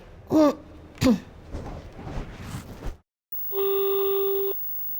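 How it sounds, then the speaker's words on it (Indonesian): A few short vocal sounds, then a brief pause followed by a steady electronic phone tone holding for over a second. "Telepon Mirna deh."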